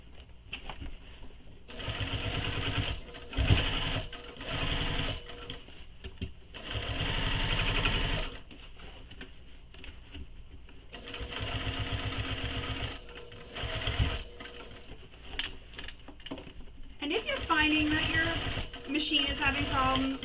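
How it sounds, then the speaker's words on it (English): Sewing machine top stitching around a sling pack bag, running in repeated bursts of steady rapid needle chatter separated by short pauses, close and clear, with a voice talking between bursts. "So just keep top stitching all the way around your bag"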